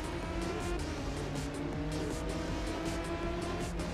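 The Meltfire race car in Ridge Racer 6, a Lamborghini-like supercar, drones with a loud, sustained engine note that holds steady with layered harmonic whine under a rushing, gritty road texture throughout.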